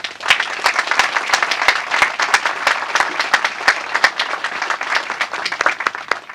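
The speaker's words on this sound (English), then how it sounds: "Please give them a round of applause." Sustained crowd applause at an indoor building dedication ceremony for state law enforcement agencies, dense steady clapping from many hands, loud and close, with no talk over it.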